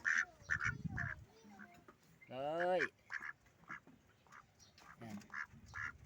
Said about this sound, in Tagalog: isang itik